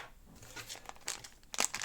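Foil wrappers from FIFA World Cup Qatar 2022 sticker packets crinkle and crunch close by, in a few short rustling bursts, the sharpest near the end, with no talk.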